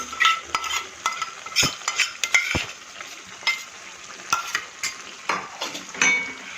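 Stirring a masala of fenugreek leaves, turmeric and tomato in a pan for a Gujarati winter dish, light sizzle under quick, repeated spoon clinks and scrapes in an uneven rhythm, close and clear, with no one speaking.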